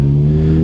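A stock Kawasaki Ninja 300 motorcycle on a race track: its engine runs with a loud, steady, close-up drone for a brief moment, with no voices.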